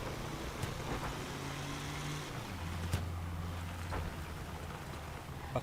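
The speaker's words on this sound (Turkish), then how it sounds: "Yağmur yağıyor." Steady rain hiss fills a Crossout game scene, with a low engine-like drone and occasional soft clicks underneath.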